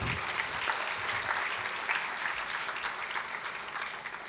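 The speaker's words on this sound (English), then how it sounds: "So a huge round of applause once again for Professor Sriram." A large audience gives a guest professor a sustained round of applause at an institute lecture event, the steady, even clapping filling the room for several seconds at moderate volume with no talk over it.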